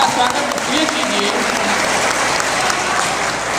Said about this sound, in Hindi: आप सबसे आग्रह करता हूं कि एक बार जोरदार ताली से